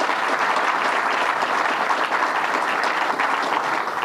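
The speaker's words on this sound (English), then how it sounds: "Let's give them a round of applause." Steady, dense applause fills the room for state legislators at a governor's announcement event on algal blooms, continuous and fairly loud throughout with no pause.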